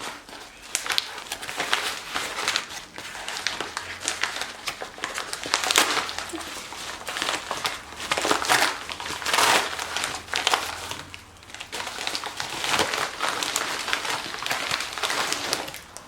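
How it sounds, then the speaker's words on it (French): Plastic packaging from an Amazon order, holding rolls of cabinet liner, crinkles and rustles as it is torn open and handled up close, in continuous irregular bursts without pause. "On va déballer ça ensemble."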